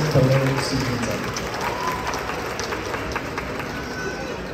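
An audience at the Hawaii Cherry Blossom Festival applauds queen contestants with sustained clapping and crowd noise, with a brief voice near the start over the steady applause.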